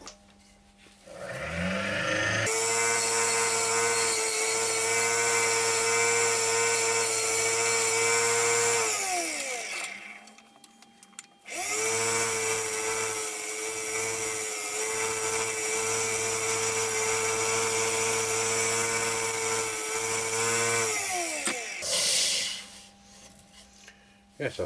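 A wood lathe spins a lump of pine with a loud, steady whine and rasping hum, running in two long stretches split by a brief pause as it spins down and starts up again.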